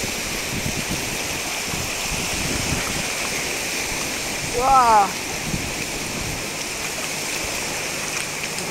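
Waves from a large surf wash over a toy truck at the water's edge, a steady broadband rush with a brief surge near the middle, as a voice exclaims over it.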